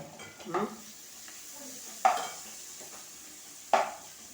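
Ginger garlic paste frying with onions and chicken in a pan, a low continuous sizzle broken by three sharp scraping stirs of a spoon against the pan.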